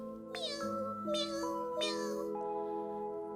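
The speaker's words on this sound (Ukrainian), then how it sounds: "Маленьке кошеня нявкотіло так жалібно" A small kitten meows plaintively three times in a row, high and drawn-out, close by with a faint steady hum underneath.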